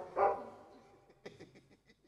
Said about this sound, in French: c'est pour te moquer du chien de voisin